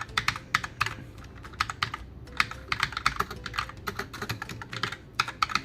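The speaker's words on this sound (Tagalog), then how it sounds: "Subukan natin ng mag-type." Typing on a Fantech MK853 mechanical keyboard with very soft switches, a steady stream of close, crisp key clacks in quick irregular bursts and short pauses, with no voices.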